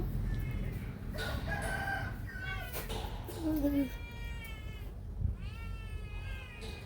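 A cat meows several times at a market, drawn-out cries rising and falling, fairly close, mixed with rooster crowing and clucking fowl over busy background noise and voices.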